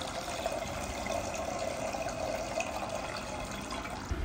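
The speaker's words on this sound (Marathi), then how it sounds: "बघा मी तुम्हाला पाणी काढून दाखवते" Water drains out through the spout in the lid of a vegetable washer bowl, a steady close trickling and splashing stream lasting several seconds without talking.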